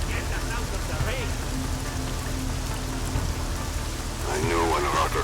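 Steady rain falling in the game Deus Ex: Mankind Divided, a dense even hiss on surfaces that runs throughout, with game voices speaking over it.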